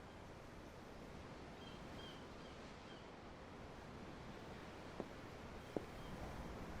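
Ocean waves wash steadily against a boat at sea in Tales of Arise, a broad, even surf hiss with faint wind, holding a constant level and broken only by two brief, sharp ticks near the end.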